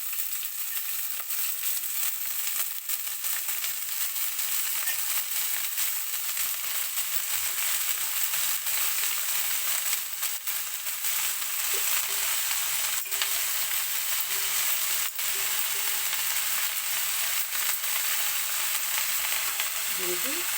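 Amaranth leaves fry with moong dal in a pan, giving a steady, moderately loud sizzle that runs throughout with faint stirring scrapes and no talk.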